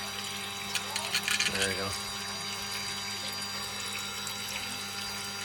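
Water swirls in a vortex inside a pumped water device fitted with a piezoelectric transducer, giving a steady, close wash of flowing water over a constant mechanical hum, with a short spoken remark partway through.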